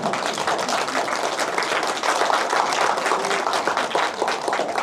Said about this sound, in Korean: 이쯤 되면 박수 좀 나와야 되는 거 아닐까?